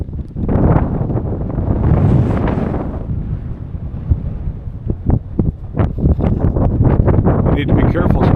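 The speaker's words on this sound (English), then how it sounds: "it's windy way out here." Strong wind buffets the microphone high up on a tall train trestle skywalk, a steady roaring rush with gusty surges throughout, while a person talks over it.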